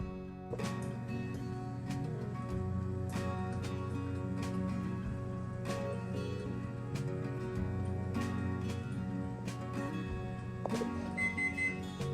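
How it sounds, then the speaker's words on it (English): A kitchen timer goes off, its ringing pulses repeating at a regular beat over a steady humming tone that lasts throughout. "the timer's going off"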